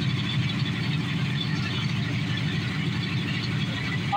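A 1968 Dodge Dart with a 426 Hemi engine idles steadily and loudly up close, a deep lumpy rumble holding constant for a few seconds with no one speaking.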